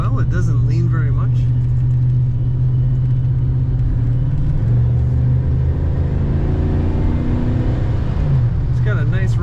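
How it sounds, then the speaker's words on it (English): Steady low engine rumble from a 1984 Chevrolet El Camino, a continuous droning hum heard from inside the car while driving, with someone talking over it at the start and end. "It's got a nice rumble to it."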